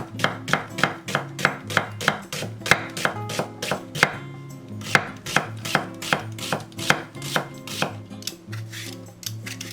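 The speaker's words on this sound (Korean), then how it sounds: "양파는 슬라이스 채칼로 밀어도 되고 칼로 얇게 채 썰어도 되고" An onion is sliced thinly with a knife on a board, crisp evenly spaced chopping strokes repeating at a quick steady pace, close and clear with no talking.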